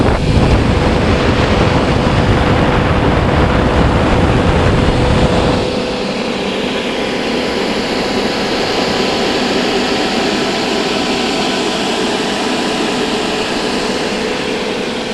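A personal swamp cooler fan, powered by a single 12-volt battery, blows a loud rushing stream of air close to the listener. The roar stays constant, then its deeper rumble drops away partway through while the airflow continues.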